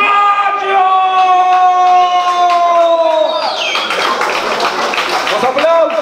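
Crowd applause and cheering for two fighters at an amateur combat event, swelling into dense clapping and shouts in the second half after sustained tonal music and an announcer's voice.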